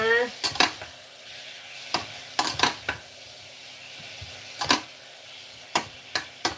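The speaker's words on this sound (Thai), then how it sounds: "ปัดหมูให้สุกก่อนนะจ๊ะ" A pan of minced pork being stir-fried, with sharp intermittent scrapes and clinks of a utensil against the pan over a faint background sizzle, irregularly spaced and fairly close.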